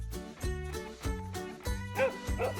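A dog barks over and over in steady, loud, close woofs with a harmonic, slightly whiny tone and no speech in between.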